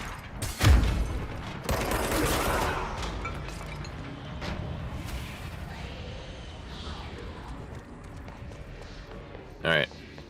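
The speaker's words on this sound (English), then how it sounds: "I love that you can just shoot them right through the windows" Gunfire in the video game Control, shooting through windows: a hard shot near the start followed by scattered reports and debris clatter over a busy background, with another sharp burst near the end.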